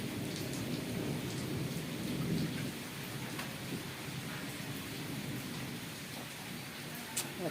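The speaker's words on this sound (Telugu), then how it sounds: "చూసావా సౌండ్లు ఏ రకంగా వస్తున్నాయో, ఉరుముల సౌండ్లు." Steady rain pours down during a morning thunderstorm, with low thunder rumbling through the downpour and a brief sharp crack near the end; no one speaks.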